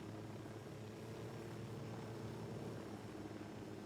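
A helicopter in the video game Ghost Recon Wildlands gives off a steady, even rotor and engine drone that stays faint and continuous throughout, with no voices.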